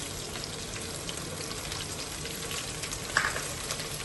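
Soft, steady sizzling of ginger-garlic paste frying in a hot pan, with faint crackles and one small pop near the end.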